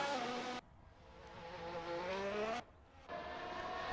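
Race cars lap the Monza circuit in a racing video game, high-pitched engines screaming past close by in two separate passes, each whine rising in pitch before cutting off abruptly, with a brief quieter gap between.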